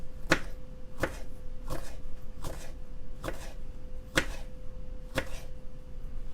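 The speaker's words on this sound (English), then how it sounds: "And now we're going to chop our jalapeno." A knife chopping jalapeno on a cutting board, seven crisp, evenly spaced chops about once per second, close and clear over a faint steady hum.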